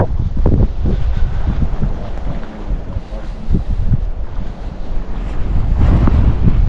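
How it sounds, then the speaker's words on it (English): Strong wind blows over a stormy alpine lake at the base of Mount Ida in Kakwa Provincial Park, British Columbia, roaring in gusts that buffet the microphone, with rough water beneath. "Stormy and windy out."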